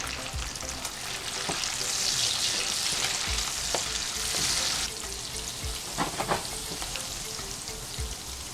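Holy basil and pork stir-fried in a hot pan for Thai pad kra pao give a steady close sizzle, with occasional scrapes and knocks of stirring and no talking.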